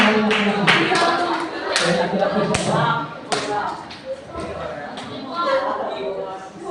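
Hands clapping together in a classroom, a burst of sharp claps from a group of students with talk and chatter mixed in throughout.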